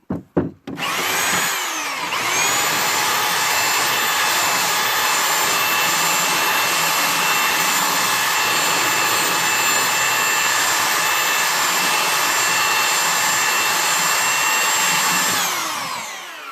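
A power sander runs steadily on wood being roughed up for a rustic snowman craft, starting after a brief clatter and holding a loud, continuous whine for about fifteen seconds before winding down.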